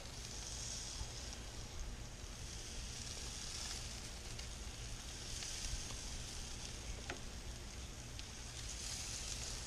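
Steady, crackling sizzle of brisket, pork shoulder or baby back ribs mopped with sauce cooking on a hot Big Green Egg grill, close and continuous with faint pops, no voices.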